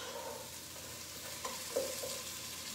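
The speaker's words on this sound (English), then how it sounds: "Okay, giving it a stir." A pan of harissa dish with chorizo, onions, rice and lentils sizzles quietly while being stirred, a low steady frying hiss with a couple of soft utensil scrapes near the middle.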